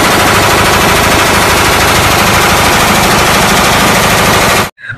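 A toy gun plays a loud, continuous electronic machine-gun sound effect, a rapid rattling burst of shots that runs for several seconds before stopping abruptly.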